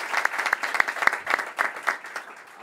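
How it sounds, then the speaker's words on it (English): Applause from an audience at a governor's bill-signing event on voting legislation, a short burst of scattered claps that is moderately loud and even, with no clear talk over it. "Please give them some applause."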